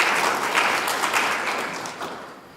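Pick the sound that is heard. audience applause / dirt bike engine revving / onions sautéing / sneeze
audience applause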